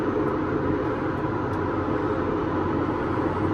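A farm tractor engine runs during haying work, a steady, loud low-pitched rumble heard from inside the cab, continuous and unchanging with no talk.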